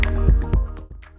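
Cut lemons and green chillies get stirred together for pickle, giving close wet squishing and a few soft dripping squelches in quick succession, no voices.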